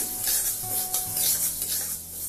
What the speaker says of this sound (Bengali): মুগ ডাল বেশি দিন স্টোর করে রাখার জন্য শুকনো খোলায় ভেজে নিন